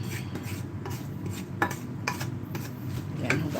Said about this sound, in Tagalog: Ito nagpakita sa inyo yung paghuhugas ko ng kawali.